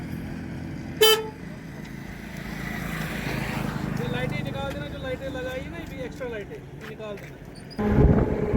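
A short car horn toot sounds once near the start, followed by street traffic noise and people talking nearby.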